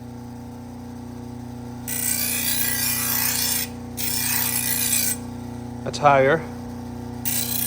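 Light passes of a Henckels kitchen knife across a sharpening surface: three long, close scraping strokes of about a second or more each, separated by pauses, with a brief spoken remark between them.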